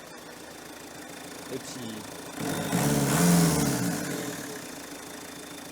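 A Citroën BX engine starts with a rising rumble and settles into a steady, slightly uneven idle, close and moderate in level, after a quiet background with a brief spoken remark in French.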